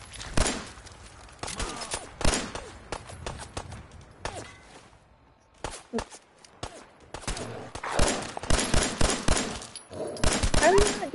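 Rapid bursts of gunfire from the video game Fallout 4, loud and close, coming in clustered volleys with short quiet gaps between them and no talk over them.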